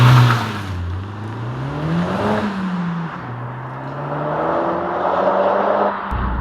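A Honda Civic Type R with a 2-liter turbocharged inline four-cylinder running just over 20 psi of boost accelerating hard, a loud, continuous engine drone rising in pitch through gear changes, heard from inside the car.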